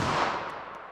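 A single .380 ACP Remington Golden Saber round fires into ballistic gel, a loud broadband blast that decays quickly over about a second with no voices.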